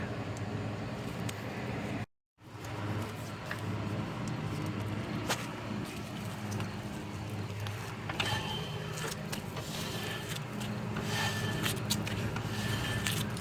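A brake drum on a Corvair Lakewood turns against freshly adjusted shoes, giving a steady, close scraping drag with faint mechanical clicks and one brief dropout near the start.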